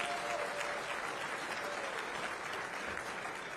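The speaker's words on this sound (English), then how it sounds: "Give this man a round of applause." A dinner-party audience in Medina County, Ohio claps for a 19-year-old in a steady, fairly close round of applause that fades slightly toward the end, with no speech over it.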